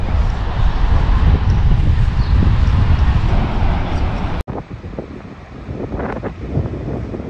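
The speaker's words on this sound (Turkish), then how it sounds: "Çok rüzgar var bu arada." Strong wind at Murray Beach near Auckland, New Zealand, roars steadily into the microphone for several seconds, then drops suddenly to quieter gusts with faint sounds underneath.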